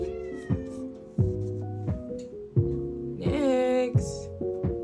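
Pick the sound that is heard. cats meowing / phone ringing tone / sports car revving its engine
cats meowing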